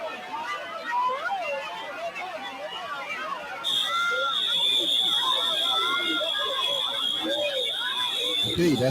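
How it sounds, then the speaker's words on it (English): A fire alarm sounding during an active shooter response training session, a loud continuous high-pitched tone that cuts in midway and holds steady over a crowded room of excited chatter and shouting voices. "Okay, that's the fire alarm."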